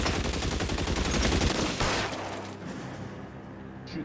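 A loud, dense burst of rapid gunfire from an LA Noire shootout fills the first couple of seconds, then drops off into a fading tail with faint scattered noise.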